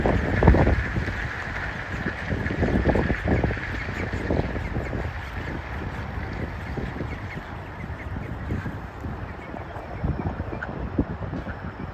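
A flock of ducks outdoors near a truck stop, loud overlapping honking quacks in dense bursts that carry on throughout, close and busy over a rumbling background.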